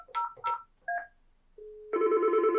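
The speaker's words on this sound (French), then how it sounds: "imaginons simplement que John veut m'appeler," Telephone keypad dial tones beep in a short series, followed by a steady electronic ringing tone as an office phone call comes in, loud and clear with no talking.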